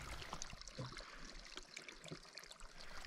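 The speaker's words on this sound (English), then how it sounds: "I'm filling up at this little creek right here" Water trickling and splashing at a small mountain creek while a hiker on a bikepacking trip fills a water bottle, a steady close rushing babble with small gurgles, no talking.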